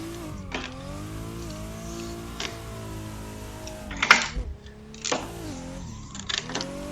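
BMW E46 race car on track, engine note rising and falling through the gears with brief shifts and a sharp clunk midway, heard from inside the cabin at moderate level without talk.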